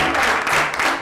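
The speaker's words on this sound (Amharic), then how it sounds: "ሞቅ ያለ ጭብጨባ" Warm applause from a crowd, a dense burst of clapping that rises and then starts to fade within a second.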